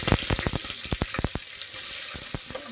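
Onions frying in hot oil in a pan for a mushroom biryani, a bright continuous sizzle carrying a rapid run of close spoon scrapes and knocks that thins out toward the end.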